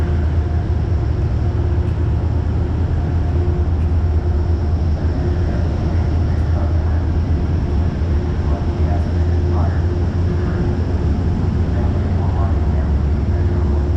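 Steady low rumble of a train idling at a White Plains or Stamford station, with a continuous hum and faint background voices throughout.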